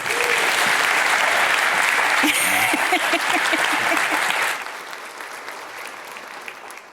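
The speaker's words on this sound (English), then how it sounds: "please give him a warm round of applause" An audience at a tech conference claps loudly and steadily to welcome a speaker to the stage, the dense applause filling the room before dropping to a softer patter near the end.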